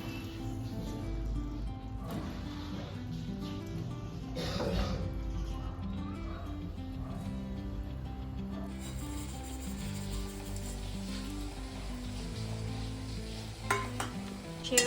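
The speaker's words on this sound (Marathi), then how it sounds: "तर पहिले तुपात हे थोडेसे फ्राय करून घेते" Vermicelli frying in ghee in a pan, a steady soft sizzle with stirring and scraping throughout, fairly quiet and with no talk.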